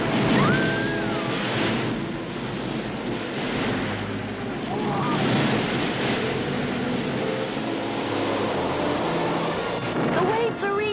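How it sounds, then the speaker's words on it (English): Stormy ocean surf rolls and crashes loudly and continuously alongside gusting wind, with a boat or ark amid the sea; voices speak over the roaring water. "The waves are reaching us."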